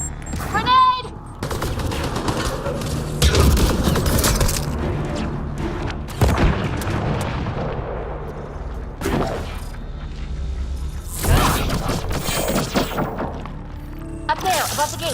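A grenade blast and bursts of gunfire in the sci-fi shooter Mass Effect Andromeda: loud, dense volleys of shots and heavy booms keep going throughout, with stronger explosive surges near the start and again in the later seconds.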